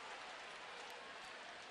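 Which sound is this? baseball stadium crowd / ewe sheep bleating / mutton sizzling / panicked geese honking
baseball stadium crowd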